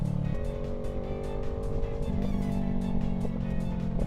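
Parallel-twin motorcycle engine with an aftermarket exhaust droning steadily with a throbbing exhaust note, shifting pitch slightly as it rides along, constant and fairly loud.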